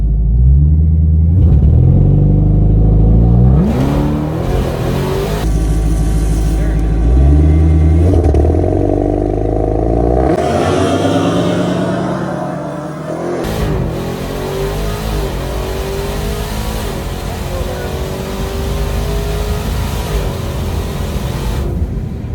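A Dodge Demon 170 launches down a quarter-mile drag strip, its engine roaring loudly through several rising revs and gear changes, briefly dipping before surging again in a long, close, rumbling pull.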